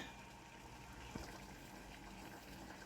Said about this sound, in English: my water is boiling